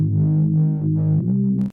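A Serum synth preset run through Sausage Fattener for gritty distortion in a melodic house intro, playing sustained buzzing low-mid tones that shift pitch midway, loud and solo, then cutting off abruptly near the end.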